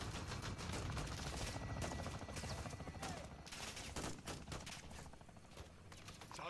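Dense, continuous automatic gunfire from the video game Call of Duty Modern Warfare II, rapid overlapping bursts of rifle fire rattling loudly throughout, like a sustained firefight with no pauses.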